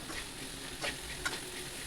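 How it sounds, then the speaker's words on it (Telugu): Long-cut okra frying in a pan with turmeric and salt, with a soft steady sizzle and a couple of brief stirring scrapes, no talk. "పొడవుగా కట్ చేసుకొని దాంట్లోనే వేసుకొని మంచిగా ఫ్రై చేసుకుందాం"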